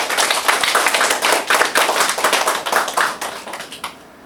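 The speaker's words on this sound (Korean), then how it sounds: "우리 하나님과 우리 모두를 위해 한번 박수 한번." A church congregation breaks into applause, a dense burst of many hands clapping close and loud for about four seconds before tapering off.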